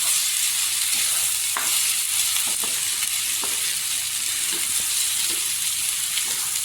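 Potato bhaji sizzles steadily in oil in a pan, a continuous close frying hiss broken by light stirring scrapes and taps, with no talk.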